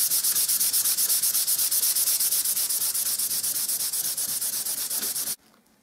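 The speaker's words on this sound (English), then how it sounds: "This is dry now, so I'm going to give it a sand now with the P160." Steady, close scraping of P160 sandpaper rubbed by hand over a dry primer coat for a brushed gloss paint finish, continuous strokes for about five seconds before stopping abruptly.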